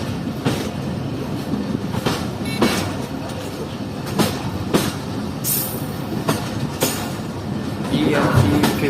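A passenger train led by locomotive EMC 15490 pulls into Jand Junction railway station, with steady rolling rumble, rhythmic wheel clicks over rail joints and brief high squeals, loud and close throughout.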